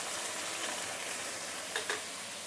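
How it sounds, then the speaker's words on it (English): Ginger, garlic, shallot, spring onion and taoju sautéing in hot oil give a dense, steady sizzle up close, with a couple of brief utensil clicks near the end. "Once the oil is heated up, I'm going to put in the ginger, garlic, shallot, and also a white portion of the spring onion together with the taoju."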